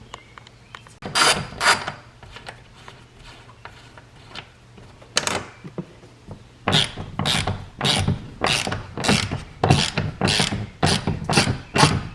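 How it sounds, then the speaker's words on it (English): Ratchet with a 10 mm socket removing a ground clamp bolt on a BMW E60 M5, close rapid clicking bursts, a few sparse strokes at first, then a long run of regular quick ratcheting strokes. "we're going to go ahead and take a 10 mil, remove that ground clamp"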